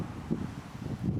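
Outdoor wind rumbles against the microphone in low, uneven gusts, a muffled buffeting with no voices.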